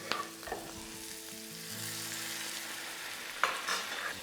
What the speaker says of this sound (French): Je vais juste faire mijoter le tout avec un peu de bouillon de volaille.